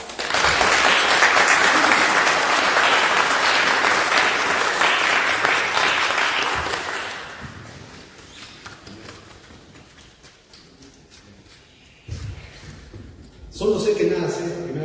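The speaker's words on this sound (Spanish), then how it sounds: "Aplausos." Dense applause fills the hall at a national philosophy award ceremony, loud and sustained for about seven seconds before thinning into scattered claps, with a voice speaking near the end.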